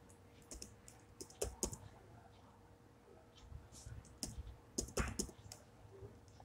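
Computer keyboard keys clack in irregular bursts while a password is entered during a Kali Linux setup in a VMware virtual machine, with quick clustered clicks separated by short pauses, close and fairly quiet.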